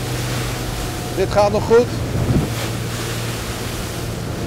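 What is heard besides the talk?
boat going through choppy waves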